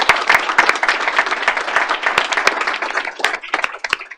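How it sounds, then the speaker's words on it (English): Applause from attendees at a FERC open commission meeting honoring a retiring official, a dense patter of individual claps rising and thinning over four seconds, fairly close and lively. "We can clap for that too."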